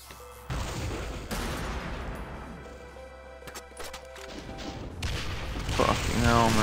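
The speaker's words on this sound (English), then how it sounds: "Two lightning gunshots." Sharp gunshots crack out of dense background noise in co-op Brutal Doom, with a few spaced reports and scattered impacts under game-like ambience.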